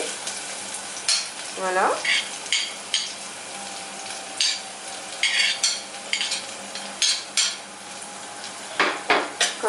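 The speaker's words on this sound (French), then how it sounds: "Nous allons commencer par mettre les échalotes dans l'huile chaude, comme ceci." Shallots sizzle in hot olive oil for a stuffed-tomato sauce, a close, steady crackle punctuated by repeated utensil clinks and stirring scrapes against the pan, with a brief spoken word.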